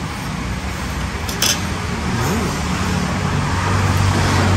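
Heavy road traffic rumbles steadily close by, with a large ten-wheel truck's low engine roar building and holding toward the end, alone without talk.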